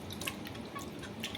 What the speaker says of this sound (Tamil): தண்ணி சுத்தமாக வடி.